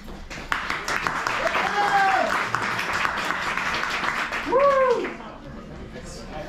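Audience applause at a Democratic political meet and greet in Johnstown, PA, a steady crowd clapping through the whole stretch with a voice talking over it.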